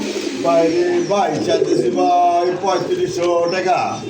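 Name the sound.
pigeons cooing at a pigeon farm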